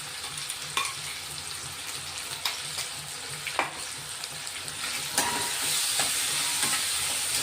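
Chopped green chillies and garlic cloves fry in a pan for a masala, a strong continuous sizzle with occasional spatula scrapes and stirs, close and loud, growing slightly louder toward the end.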